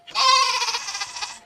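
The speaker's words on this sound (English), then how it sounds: "G for goat" A goat bleats once in a single sustained, wavering cry, close and clear with no other sounds around it.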